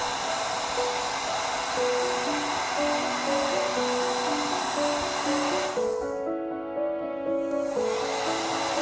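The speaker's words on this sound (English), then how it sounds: "grab my heat gun. Just heat gun. Turn it on high." A heat gun runs on high, a steady loud blowing hiss with a fan whine, continuous throughout with a slight dip near the end.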